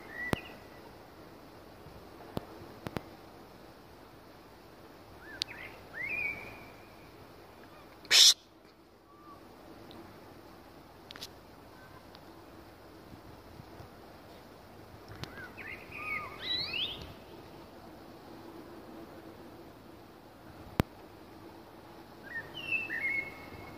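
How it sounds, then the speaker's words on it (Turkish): A common nightingale sings from the trees at a holiday village in Armutlu, Yalova, giving short, bright, scattered whistled phrases separated by pauses over a quiet outdoor background, with a few sharp clicks and a voice heard briefly. "Güzel ötüşü var bülbülün."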